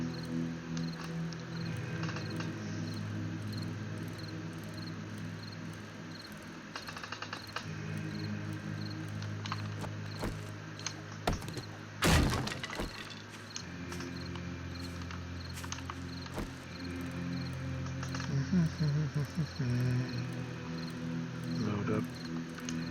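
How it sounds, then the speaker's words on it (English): Crickets in 7 Days to Die (Alpha 19, Darkness Falls mod) chirp steadily and faintly over a low game hum, broken near the middle by a sharp loud crack and later by light scraping bursts, with occasional quiet talk. "Listen to all these crickets."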